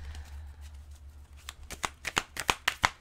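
Guardian angel tarot cards being shuffled by hand to draw a daily card: soft riffling at first, then a quick series of crisp, close card snaps and slaps growing louder over a low background hum.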